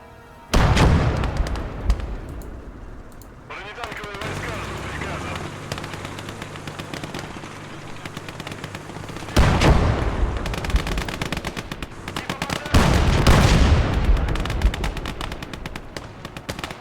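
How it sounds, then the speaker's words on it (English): Machine gun and artillery fire in a World War II battle video game, with sporadic bursts of gunfire and heavy booming blasts, loud and close, rising in intense volleys with quieter rattling stretches between. "We're getting some sporadic firing here."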